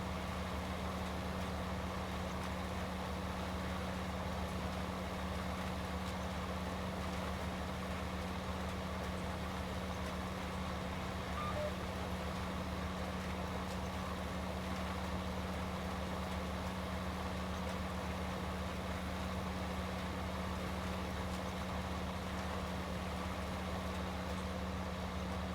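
Tractor engine in Farming Simulator 19 holding a steady low idle-like hum for the whole stretch, even and unchanging, with no speech over it.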